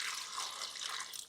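Water poured from a cup into a pot of cluster beans, drumsticks and carrot, a soft continuous splashing and trickling close by, heard alone for about a second.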